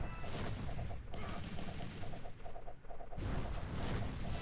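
Cannon fire and rapid impacts in the mobile game Idle Kingdom Defense, a dense stream of booms and crackling hits over a rumbling low end, with brief gaps between bursts.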